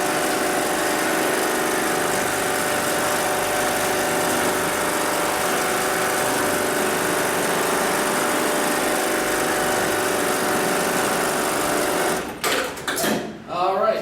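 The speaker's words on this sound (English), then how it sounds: "That's going to initiate the sewing cycle." A programmable-pattern sewing machine for decorative stitching runs a steady, continuous stitching cycle for about twelve seconds, then stops with a few short mechanical clicks and thumps as it trims the thread.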